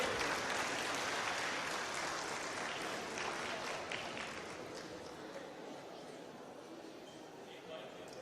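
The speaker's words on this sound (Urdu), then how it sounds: "آپ کی بھرپور تالیوں کی گونج میں." Sustained audience applause at a youth gathering in Lahore welcoming a speaker, a dense wash of clapping that slowly fades over several seconds.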